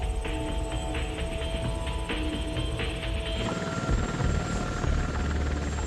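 Loud, steady Apache helicopter rotor thumping and engine whine, continuous and close, with no voices.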